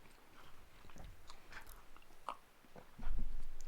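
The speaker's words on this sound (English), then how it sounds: "It starts off with a slight crunch. Then you get the little nuts in your mouth." Someone bites into and chews a crunchy snack with little nuts in it, giving close, irregular crisp cracks and mouth sounds. A louder crunch comes near the end, and no one talks.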